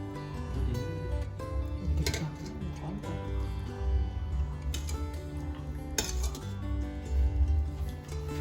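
Dishes and utensils clink softly as beef and clear broth go into a bowl of soto daging, with scattered light taps and clinks over a steady low kitchen hum.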